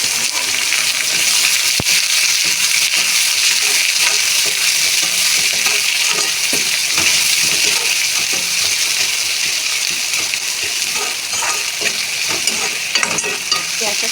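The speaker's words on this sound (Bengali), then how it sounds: "পেঁয়াজটা একটু লাল লাল করে ভেজে নেব" Chopped onions frying in hot oil, a loud continuous sizzle and crackle with stirring scrapes throughout, close and steady with no talk.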